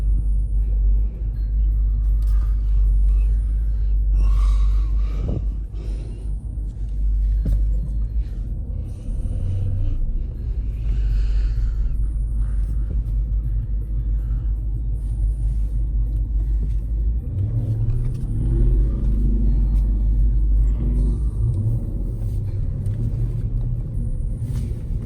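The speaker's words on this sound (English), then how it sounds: "Get that damn Nissan Murano thing out of here." A Nissan Murano's engine rumbles low and steady throughout, a continuous close drone with slight swells and no pauses.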